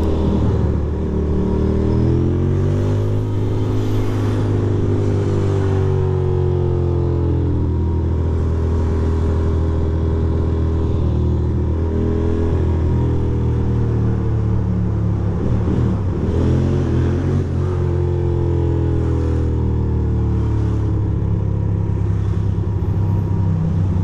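Ducati motorcycle cruising through New York City traffic, a steady close engine drone with smooth rises and falls in revs as it shifts and rolls along.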